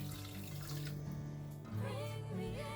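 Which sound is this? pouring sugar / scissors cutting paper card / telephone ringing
pouring sugar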